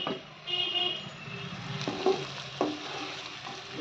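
Spices frying in a pan for Kerala style fish curry, giving a steady soft sizzle with a few brief clinks and stirring scrapes, heard fairly close and without any voices.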